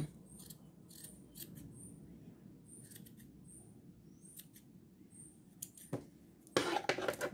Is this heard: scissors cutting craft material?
yes